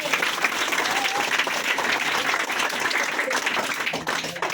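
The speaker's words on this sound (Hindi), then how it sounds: "तुम लोग जोरदार ताली मारो।" An audience bursts into loud, sustained applause at a motivational class session, steady clapping filling the whole stretch with a few faint voices mixed in.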